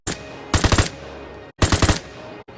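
An automatic weapon in the video game Vigor fires in two short bursts of rapid shots, loud and close, with a brief pause between the bursts and a single shot starting at the end.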